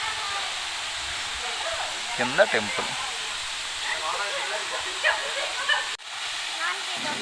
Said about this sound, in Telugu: చిన్న పైనుంచి వాటర్ ఫాల్స్ వస్తున్నాయి